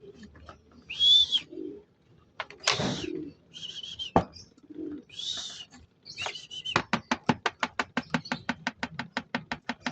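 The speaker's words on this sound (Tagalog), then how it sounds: "meron na ang mga kalapate na nandito" Pigeons arriving at a loft in Candelaria, Quezon in the morning, with several soft coos and bird calls followed by a rapid run of sharp rhythmic clapping or flapping pulses close by.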